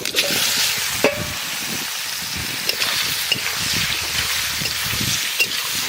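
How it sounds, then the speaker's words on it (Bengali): Spices and taro pieces sizzle steadily in hot oil for a Bengali taro and stinging catfish curry, a loud continuous crackle with occasional stirring knocks and a brief metallic clink. "তেল গরম হয়ে গেছে ফোড়নে দেবো রান্ধনি আর জিরিয়া দিয়ে দেবো বাপাই নেওয়া কচু"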